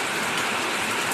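Rain falls in a brief, steady, even hiss of drops on surfaces, fairly loud and unbroken.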